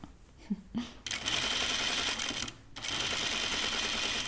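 A sewing machine understitches the lining of a caftan dress, with the seam allowances pressed toward the lining. Its close, steady whirring stitching runs in two long bursts separated by a brief pause, with a few soft handling sounds at the start.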